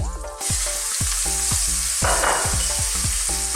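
Onions sizzling loudly in a hot pan of Indian curry, with rhythmic stirring strokes scraping through the steady fry, close and alone.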